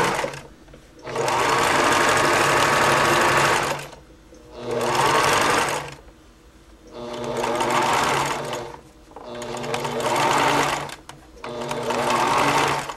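A sewing machine stitches the seams of a fabric burp cloth in five bursts of steady, close whirring, with short quiet gaps between runs.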